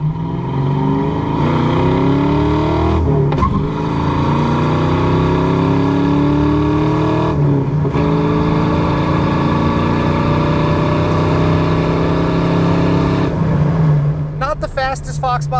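A one-owner 1993 Ford Mustang GT with a 5.0 V8 and five-speed manual is heard from inside on a test drive, its engine droning steadily and rising through gear pulls, with brief shift breaks and someone talking over it.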